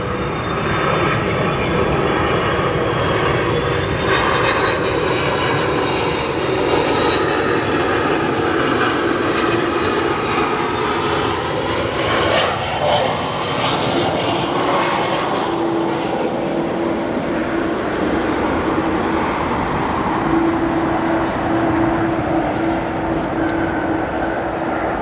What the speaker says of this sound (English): Keeping that nose up, using a little bit of aerodynamic braking.